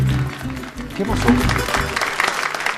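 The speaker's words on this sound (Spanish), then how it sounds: "Siguen los aplausos, señores." Audience applause at a live show rises with cheering voices mixed in and talk over it, a busy, fairly loud crowd sound throughout.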